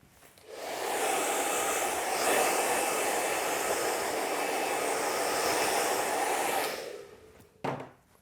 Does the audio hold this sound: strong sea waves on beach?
no